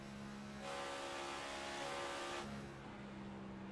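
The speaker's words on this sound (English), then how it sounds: "You're going to hear some downshifting as well." A NASCAR race car in the iRacing video game at Charlotte drones at a steady engine pitch, then the note jumps and shifts as it downshifts, with a second engine tone underneath.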